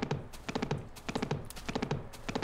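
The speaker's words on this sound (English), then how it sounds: "Oh, I want that horse." Hooves of a horse in the blocky survival video game Minecraft clop in a quick, even rhythm, close and clear, with no voices over them.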